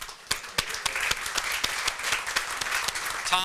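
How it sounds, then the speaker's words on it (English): Audience at a Rotary Club meeting applauds with steady, dense clapping throughout, with a few sharp individual claps standing out over the crowd. "you can clap for Sam because he's killing it"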